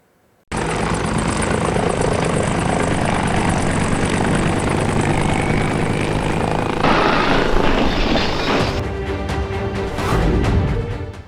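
A loud helicopter roars steadily overhead in bad weather at Kedarnath, its rotor chop and engine whine filling the air continuously for several seconds after a sudden start.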